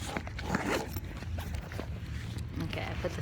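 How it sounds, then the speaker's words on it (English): Zipper pulled once amid low background noise and faint voices nearby, a short rasping sweep near the start. "Got a zipper."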